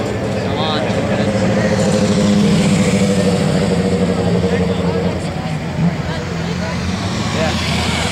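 A drag car with its line lock engaged revs at Las Vegas Motor Speedway during a night event, a steady loud engine drone with crowd and announcer-style talk layered over it throughout.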